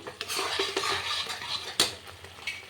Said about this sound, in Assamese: এইখিনি মই এতিয়া ভালদৰে ফ্ৰাই কৰি লওঁ।